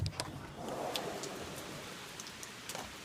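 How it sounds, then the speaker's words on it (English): Rain falls in a steady, fairly soft hiss, with scattered drops pattering close by on a surface throughout. "Okay, currently right now it's raining."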